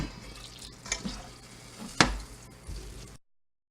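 Steak fajitas and vegetables sizzle and get stirred in a pan on the stove, a low frying hiss punctuated by a few sharp scraping and clattering knocks before the sound cuts off.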